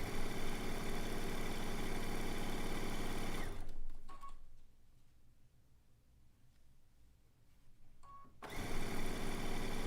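A quilting sewing machine runs at a steady, loud whir, stops for several seconds in near silence with faint clicks, then starts stitching again at the same speed.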